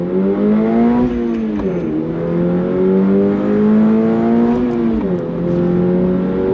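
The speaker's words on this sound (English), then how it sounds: "But we're gonna go on throttle again. You ready? On throttle, here we go." A 2025 Subaru BRZ tS with a 6-speed manual pulls hard on throttle, its engine note climbing in a loud, close, rising drone, briefly dipping at a shift and then climbing again.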